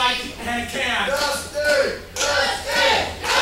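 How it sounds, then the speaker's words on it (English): Crowd at a CCW Surge wrestling event cheering for Dusty Williams, a loud swell of shouts and chanting from the arena that rises and falls, with a commentator's voice over it. "Crowd trying to get behind Dusty Williams here."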